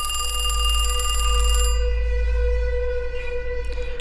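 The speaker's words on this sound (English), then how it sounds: "That's when the phone rang." A telephone rings with a bright electronic trill that stops partway through, leaving a fading tone over a low hum.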